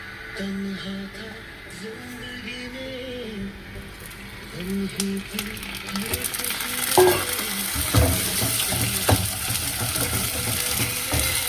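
Ginger garlic paste goes into hot oil and is stirred, giving a bright sizzle that swells partway through, with scraping stir noises and a voice talking over the cooking.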